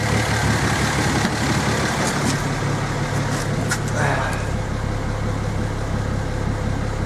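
A car engine idles steadily after a vacuum-leak repair, a close, continuous low rumble with an even throb and an occasional slight shake, and a brief higher whine partway through.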